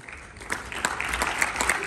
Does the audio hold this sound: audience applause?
yes